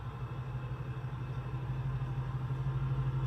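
A 1971 Chevrolet El Camino with a 350 crate engine runs at a steady idle, giving a continuous low rumble that stays even throughout with no voices over it.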